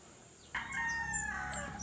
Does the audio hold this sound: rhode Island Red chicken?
yes